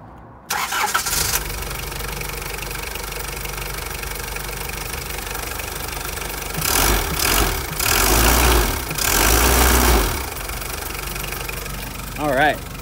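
The diesel engine of a 1991 Isuzu Fargo camper turns over and settles into a steady, clattering idle up close, with a couple of louder swells partway through.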